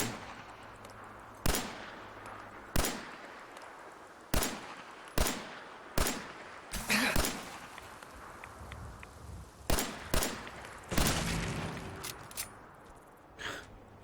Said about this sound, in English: let's just randomly fire a gun